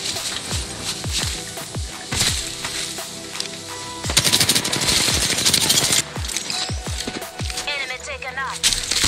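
Automatic weapon fire in the Apex Legends game, with rapid bursts and single sharp shots across the clip, densest in a sustained volley midway, over steady game ambience.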